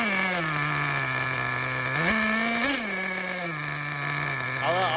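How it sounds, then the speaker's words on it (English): A 20-year-old Losi XXXNT nitro RC engine, running super rich, idles roughly with a steady buzzing drone whose pitch wavers and briefly surges before settling again. "I'm just gonna let it finish out idling"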